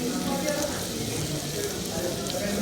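Diced potatoes sautéing in a pan for potato chowder, a soft continuous sizzle with faint stirring scrapes, steady and close without talk over it.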